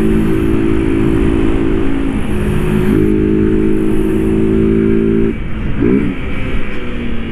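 A blue Honda Titan 160 motorcycle engine revs loudly up close, holding a steady buzzing drone before dropping back toward idle, with no talk.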